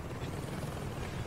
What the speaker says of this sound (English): Oh god, my helicopter's going a bit weird.